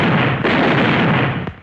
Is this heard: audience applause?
no